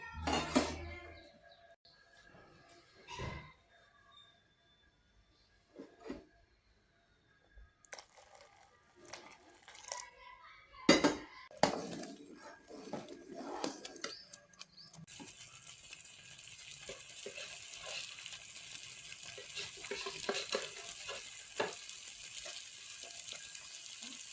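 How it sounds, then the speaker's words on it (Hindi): Stirring and scraping in a pan as water is mixed into semolina halwa with sugar, intermittent clinks and scrapes of a utensil against metal, then a steady hissing bubbling as the water hits the hot pan. "सारा पानी इसमें मिक्स कर देंगे।"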